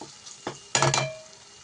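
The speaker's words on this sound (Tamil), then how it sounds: "அப்புறம் தனி மிளகாத்தூள் கொஞ்சம் இதெல்லாம் போட்டு நல்லா மிக்ஸ் பண்ணிக்கலாம் இது கொஞ்சம் நல்லா வேகட்டும்" Masala with chili powder cooks in a pan, a short burst of sizzling and stirring that flares up briefly, then settles back to a low hiss.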